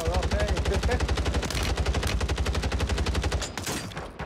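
Rapid automatic gunfire in a first-person shooter game, a steady burst of loud, evenly spaced shots running for several seconds with a brief pause and a short break near the end.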